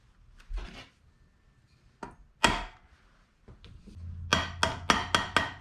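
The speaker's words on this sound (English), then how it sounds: "you can tap those down in place" A metal chain keeper on a Kawasaki KLR650 motorcycle drive chain is tapped into place with a screwdriver: scattered sharp close knocks at first, then a quick run of about six crisp evenly spaced taps in a quiet workshop.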